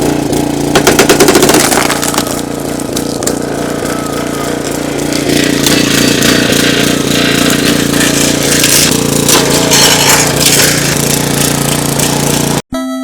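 A 20-ton log splitter works through wood with a steady, loud mechanical engine drone and rapid rattling hits, continuous for the whole stretch with no talk over it.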